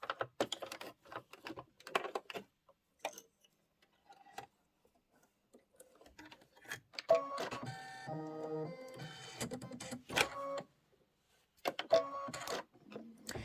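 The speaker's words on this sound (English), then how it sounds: "This is going to be 14 minutes of stitching." A home embroidery machine stitches a pink design in bursts of fast, rhythmic needle clatter, with short pauses and a few separate clicks between runs.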